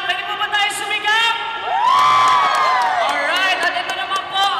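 A live crowd at a Kanta Pilipinas singing contest show shouts, whoops and cheers loudly, a sustained roar of many voices swelling midway and holding to the end.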